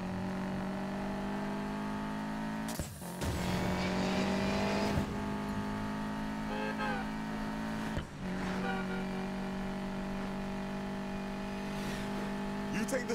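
Race cars in Need for Speed Payback roar at steady full throttle with layered engine drones, sharp shifts around the third and eighth seconds, and brief tire noise, all close and loud without any talk.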